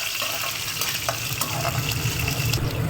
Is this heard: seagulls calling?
no